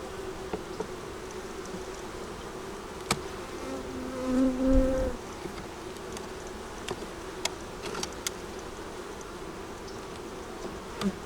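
Honey bees hum steadily around their hives in cold weather, a continuous buzzing drone with a brief louder swell midway.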